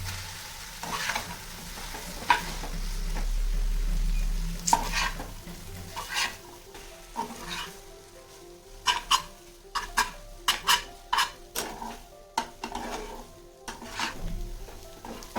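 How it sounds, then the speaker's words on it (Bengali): Chow mein noodles stir-fried in a pan with pepper, starting with a loud sizzle and then a run of sharp, rhythmic clanks and scrapes of a utensil against the metal, close up, with no talking. "আমি এবার চাউমিনগুলো দিয়ে দেবো।"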